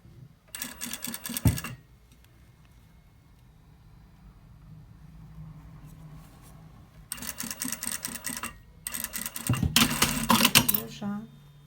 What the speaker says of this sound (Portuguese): Vai preparando, vai costurando.